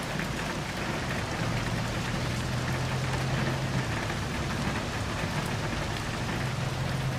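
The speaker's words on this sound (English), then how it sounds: "Moderate rainfall should continue today, and there are no signs of it letting up." Steady moderate rainfall in the video game Love and Deepspace, a dense continuous patter of drops on surfaces that stays even and enveloping throughout with no voices.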